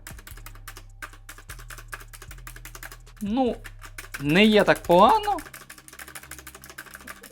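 Clicky switches and the space bar stabilizer on an AULA F3287 keyboard, heard as a close, steady run of rapid key clicks with someone talking over part of it.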